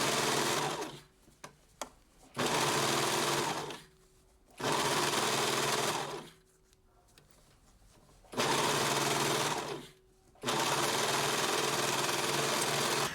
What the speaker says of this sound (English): then you can go and overlock it